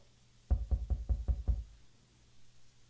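Knocking on a door in a dark horror video game set in December 1999: six quick, evenly spaced knocks, close and solid, followed by quiet ambience.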